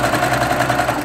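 A sewing machine stitches quilt pieces together in a loud, close, rapid rhythmic whir that runs steadily throughout without any voices.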